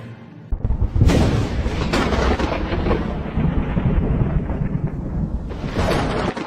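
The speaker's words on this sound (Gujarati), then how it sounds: "વીજળીના કડાકા ભડાકા સાથે ધોધમાર વરસાદ" A loud, rolling rumble of thunder builds and lingers over a steady wash of heavy monsoon rain in Gujarat, India, close and powerful.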